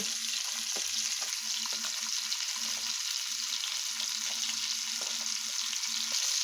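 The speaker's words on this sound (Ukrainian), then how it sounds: "Ну і смажу на сковорідці." Breaded fish sizzles steadily in a hot frying pan, a soft continuous crackle with a few faint clinks and bumps of stirring.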